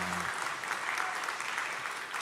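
A church congregation at an ordination service breaks into sustained applause, dense, even clapping filling the room for a couple of seconds after a brief low voice at the start.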